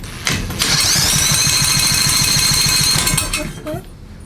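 An electric drill spins an engine over backwards during a compression test, a loud steady whirring drone with rhythmic pulsing for about two and a half seconds, then winding down; a voice speaks near the end.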